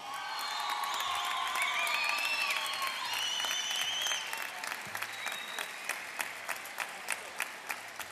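A crowd applauds and cheers to welcome a university delegation at the opening ceremony of a university games event, with dense clapping and a few high whoops. The clapping thins out into scattered separate claps toward the end.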